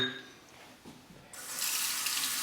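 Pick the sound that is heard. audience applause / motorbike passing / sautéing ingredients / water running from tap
water running from tap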